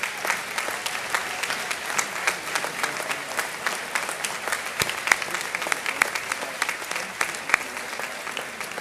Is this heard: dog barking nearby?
no